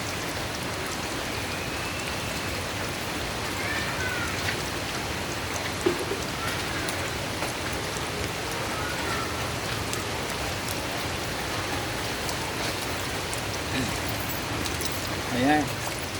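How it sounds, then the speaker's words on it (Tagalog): Steady rain falls throughout, a dense even hiss of drops on surfaces with occasional louder drips nearby. "umuulan"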